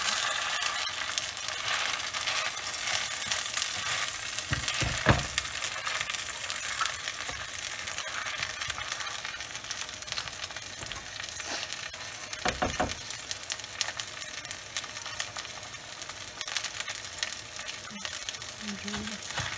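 Bánh xèo batter frying in a hot pan, a loud, constant crackling sizzle running throughout, with a few brief clinks and voices talking quietly underneath.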